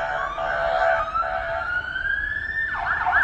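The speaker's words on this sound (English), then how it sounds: "You afraid of the siren?" An emergency vehicle siren wails somewhere outside an abandoned, windowless fast-food restaurant in Wexford, PA, its pitch sliding upward before switching to a faster warble near the end, moderately distant and unaccompanied by speech.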